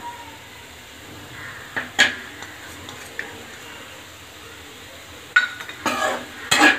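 Ground roasted masala is stirred into cluster beans cooking in a pan for a poriyal, with a quiet scraping background broken by scattered sharp clinks of a spoon against metal, clustered toward the end.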